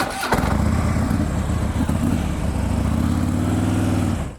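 A Harley-Davidson Road King motorcycle engine catches with a sharp burst, then runs close and loud in a steady, deep, lumpy idle for a few seconds before cutting off.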